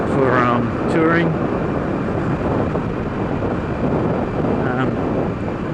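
Steady, loud wind roar buffets the microphone on a motorcycle ride on a touring bike fitted with ace bars, with someone talking briefly over the continuous rushing noise.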